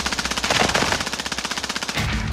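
Rapid automatic gunfire in a military shooter video game rattles in a steady, loud burst of closely spaced shots that lasts about two seconds and ends abruptly.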